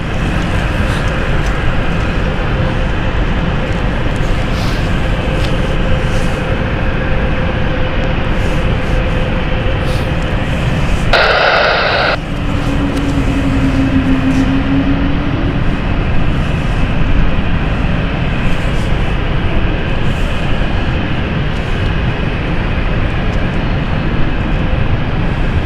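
Swiss airliner departing London City Airport, a low continuous jet roar across the whole stretch, with a brief loud burst midway and then a short rising whine, heard from a distance and with no talk.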